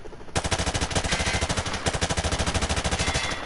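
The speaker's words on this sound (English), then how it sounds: "He's sprayed bullets all over them." Sustained rapid automatic gunfire from a machine gun in Call of Duty Modern Warfare 2 on an Afghanistan firebase map, loud and continuous with a steady stuttering rhythm after a brief quiet start.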